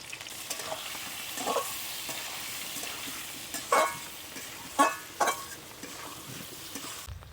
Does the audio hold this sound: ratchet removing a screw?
no